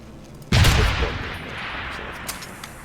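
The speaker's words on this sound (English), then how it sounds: "So any of you hear a gunshot?" A single loud gunshot cracks in the Deus Ex: Human Revolution video game, followed by a long reverberant tail that fades slowly, with no talk over it.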